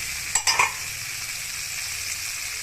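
Water hits a hot cooking pan with a quick burst of hissing, followed by a steady, moderate sizzle that continues under a quiet background, with no one talking.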